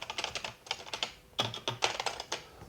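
Fingers type on a repaired Samsung membrane computer keyboard, a close, quiet run of soft, irregular key clicks in quick bursts with a short pause midway.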